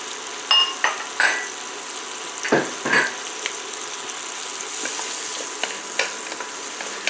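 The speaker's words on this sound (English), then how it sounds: "The butter is ready now for me to add my carrots and onions. I'm going to saute these down for about 2 minutes." Carrots and onions saute in butter in a pan, a steady close sizzle with a few sharp spatula scrapes and taps near the start, while cooking for broccoli and cheddar soup.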